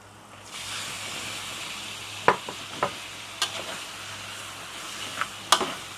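Pork goes into a hot pan for rendang and is stirred, a constant sizzle underneath several sharp scraping and clanking strokes of a spatula against the pan, close and without talk.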